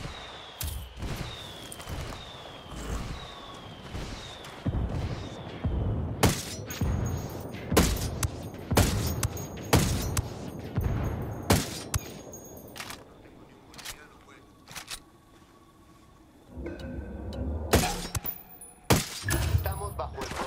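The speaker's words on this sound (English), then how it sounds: "Estamos bajo el fuego de armas enemigas que no sabemos cuántos son." Enemy gunfire in Ghost Recon Wildlands comes as repeated sharp bursts and single cracks, some loud and close, others scattered, with shattering impacts and a quieter lull before the shooting picks up again.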